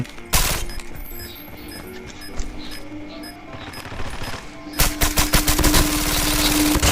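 Rapid automatic gunfire from Call of Duty Mobile crackles in loud bursts, sparse at first and then turning into a dense, sustained volley of shots over the last couple of seconds.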